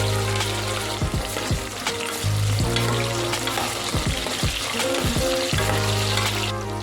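Steady, close sizzling of chopped small onions (shallots) frying in hot oil for chicken curry, with occasional stirring clatter, continuous throughout and no voices.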